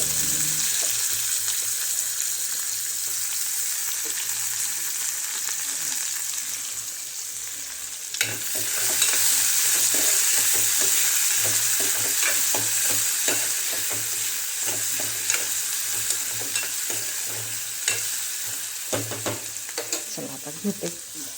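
Onion frying in a pan while being stirred during everyday home cooking, a steady close sizzle with repeated scraping and clinks of the spoon, growing louder partway through and continuing for about twenty seconds without talk.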